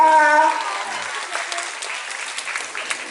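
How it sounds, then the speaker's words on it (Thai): An audience at a Sony Ericsson showcase event breaks into steady applause, following a brief bit of amplified talk at the start, and the dense clapping carries on evenly to the end. "ขอเสียงปรบมือ"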